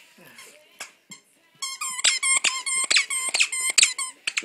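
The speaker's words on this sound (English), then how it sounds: "He figures out the squeaky noise." A squeaky dog toy squeaks sharply in a rapid burst of repeated squeaks, close and loud, after a few softer rustles and a faint dog noise at the start.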